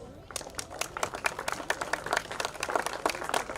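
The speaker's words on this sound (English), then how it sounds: "I'd like to give our next gentleman a round of applause for doing such a superb job" Crowd applause for the umpires at the Ghantoot International Polo Championship final, dense steady clapping from many hands that rises slightly and holds for several seconds.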